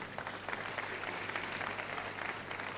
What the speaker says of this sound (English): It needs an applause